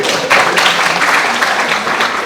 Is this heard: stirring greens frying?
no